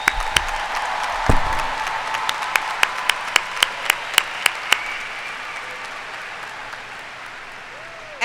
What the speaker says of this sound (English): please join me in applauding the outstanding achievement, service, and future of our graduates